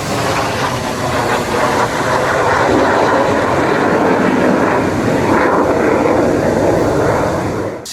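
A loud, sustained fighter jet roar passing close overhead fills the whole stretch, a broad rumbling rush that stays close and powerful before easing slightly at the end.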